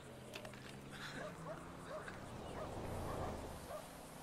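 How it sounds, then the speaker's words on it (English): Coyote packs yipping and howling in the video game GTA 5, a series of high warbling yips and whines repeating over a low rumbling background, moderately loud and continuous. "Looks like we got two packs of coyotes down there"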